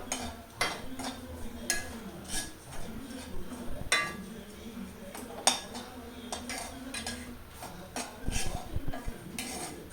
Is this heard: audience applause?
no